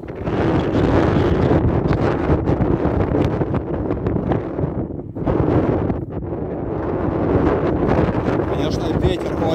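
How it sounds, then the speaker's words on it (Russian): Strong wind buffets the microphone in a steady, loud roar on a skyscraper rooftop high above Grozny at night in winter, dipping briefly midway before surging again, with no other sounds clear. "Очень сильный ветер."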